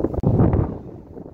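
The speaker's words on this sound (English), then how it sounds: "Sorry, it's a little windy." Low, rumbling wind gusts buffet the microphone outdoors on a farm, a short blustery roar that fades after a moment.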